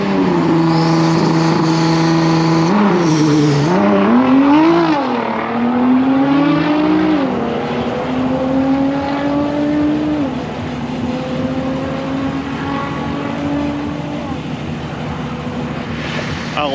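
Bryce's Nissan GT-R launches down a drag strip, its engine rising in pitch through several gear changes and fading as it pulls away, under steady outdoor noise.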